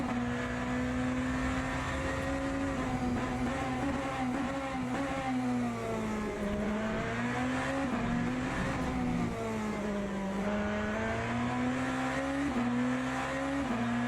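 A BMW hypercar engine in Le Mans Ultimate drones loud and continuous, its pitch rising and falling through gear changes and corners, with no talk over it.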